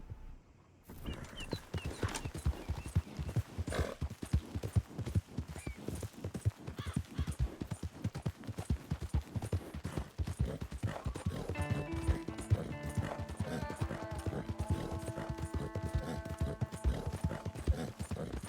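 Horse hooves clip-clop steadily in Red Dead Redemption 2, a brisk rhythmic trot of close, loud hoofbeats that continues throughout, with a sustained musical tone entering toward the end.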